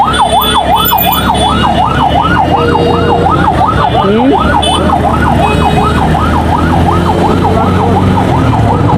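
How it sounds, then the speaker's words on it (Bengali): Wailing ambulance siren, loud and steady with a rapid rising-and-falling cycle, sounding throughout over the rumble of a traffic jam near an agricultural university in Mymensingh, with vehicle engine noise and a brief horn-like tone. "কত জ্যাম হয়ে গেছে এখানে। অ্যাম্বুলেন্স।"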